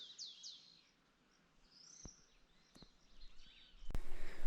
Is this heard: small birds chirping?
yes